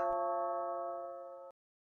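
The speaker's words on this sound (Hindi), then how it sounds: "अरे अब कौन आ गया इतना रात में, घंटी बजा रहा है, देखना होगा।" Doorbell ringing at night in a house: a single clear electronic chime sustained for about a second and a half, then cut off into silence.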